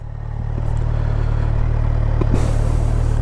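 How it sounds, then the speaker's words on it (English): Kawasaki Versys 1000 SE with a 1043cc inline-four and stock exhaust idles and revs up, a steady deep exhaust grumble under a higher-pitched whir, loud and close, with a sharper hiss entering near the end. "it's got a bit of a higher pitch whir from the engine, and you got that deep grumble from the exhaust"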